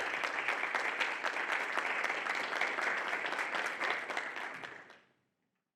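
Sustained applause from a crowd, steady and dense for about five seconds before stopping abruptly into silence.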